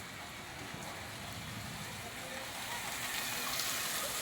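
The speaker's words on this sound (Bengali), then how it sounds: "খুব বেশি বৃষ্টি হচ্ছে না" Light rain patters steadily on a street, a constant close hiss that swells slightly louder toward the end, with faint low rumbling underneath.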